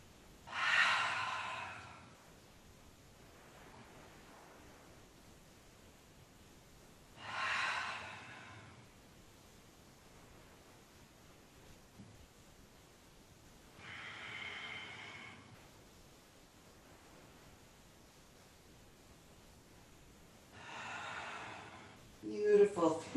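Deep, slow breaths during a yoga session, with four long inhales or exhales spaced several seconds apart, close and fairly loud over a quiet room.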